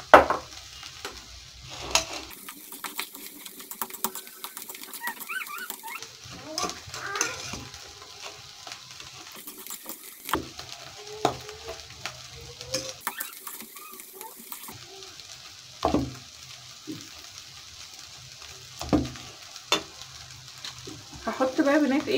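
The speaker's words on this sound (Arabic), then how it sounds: "وهقلبهم" Vegetable dish stirred in a pan with a small spoon, after two teaspoons of an ingredient and a drizzle of olive oil are added, giving intermittent scraping and clinking over a soft sizzle, with brief pauses between strokes.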